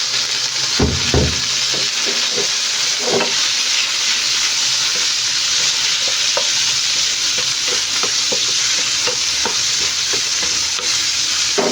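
Onion and tomato sautéing in a pan for ginisang sayote, a loud continuous close sizzle with intermittent spatula scrapes and stirring knocks throughout, no talking.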